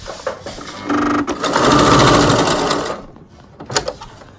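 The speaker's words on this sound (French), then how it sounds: "je couds." A sewing machine runs a straight stitch along a folded 1.5 cm hem on a wig topper, a steady loud mechanical whir with a brief start-and-stop before one longer continuous run.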